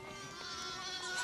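A white goat bleats in a continuous, strained call that stays loud and steady throughout, heard up close with no talking over it.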